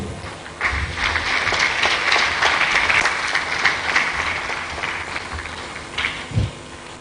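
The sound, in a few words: audience applause for student drama group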